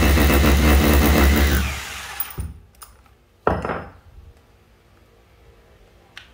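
A 220V three-function electric concrete drill, reversible with variable speed, runs loud and steady for about two seconds before cutting off; sharp clicks and a clattering knock follow in the quiet afterward.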